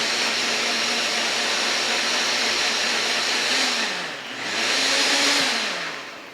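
An electric mixer whirs loudly and steadily while blending a vinaigrette for a summer tomato salad, its motor pitch dipping and rising as the speed briefly drops before it spins up again, close to the listener with no talk.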